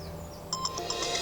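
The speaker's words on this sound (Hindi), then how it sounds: "कहीं फोन बज रहा है।" A phone ringtone plays as a repeating electronic melody of short bright tones, starting about halfway through over a low background hum, fairly close and clear.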